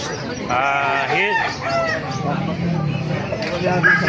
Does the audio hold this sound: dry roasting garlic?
no